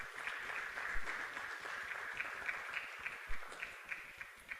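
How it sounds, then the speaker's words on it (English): A DataFest Africa 2022 conference audience gives a panelist a round of applause, a soft, somewhat distant patter of many hands, steady with occasional louder individual claps and low rumbling bumps underneath. "Please, let's give a round of applause to Amaka."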